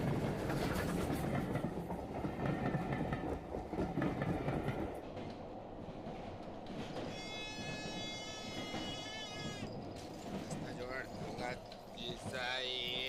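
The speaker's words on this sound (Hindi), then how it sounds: "अरे बेटा ट्रेन भी छूट जाएगी" A train running on the rails, a loud rumbling clatter with rhythmic wheel noise and high squealing tones, mixed with voices talking over it.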